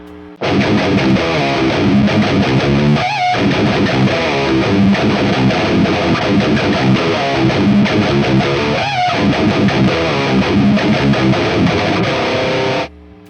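Distorted electric guitar plays continuously through a boosted Peavey XXL solid-state amp, dense crunchy metal chords and riffs with brief pauses, loud and close.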